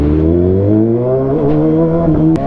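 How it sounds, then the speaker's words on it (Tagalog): A motorcycle fitted with a Yoshimura long canister exhaust, ridden before heading onto an expressway, gives a loud, close, steady engine drone whose pitch climbs slightly as it revs; no one talks over it. "Angas talaga ng exhaust niyo, Yoshimura long canister."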